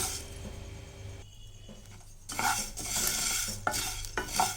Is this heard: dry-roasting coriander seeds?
yes